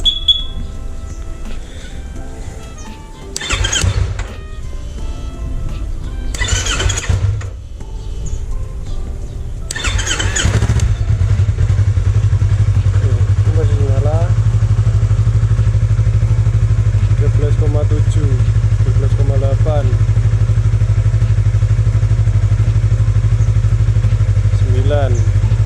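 Yamaha MT25/R25 motorcycle engine with weak electrics, cranking in short bursts before catching and settling into a steady, loud, close idle with no throttle blips, faint chirping sounds over the hum.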